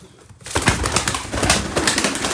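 Grey male smoky kiriliş pigeons flutter and flap their wings in close, busy bursts as they are handled, with a soft, steady rustle running throughout after a brief quiet start.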